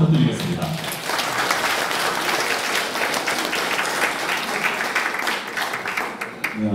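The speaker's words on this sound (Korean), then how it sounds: "큰 박수 부탁드리겠습니다." Guests at a wedding reception break into sustained applause, a loud, dense wash of clapping that carries on steadily for several seconds before tapering briefly near the end.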